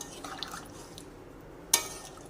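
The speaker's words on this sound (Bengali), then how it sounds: "আমি এবার জলটা দিয়ে দিই জলটা করে খুন্তির ওপরেই দিলাম" Water is poured over a metal spatula into a pan of curry on the stove, giving faint trickling and dripping followed by one sharp splash, quiet and close, with no talk.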